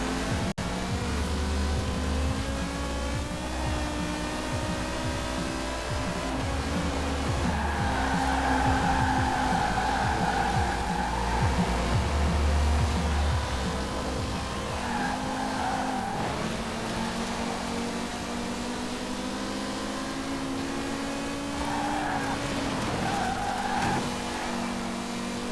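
A car engine in a Forza Horizon 4 downhill seasonal championship race drones steadily and loud for the whole stretch, its pitch climbing and dropping through long gears, with faint tire noise and no talk.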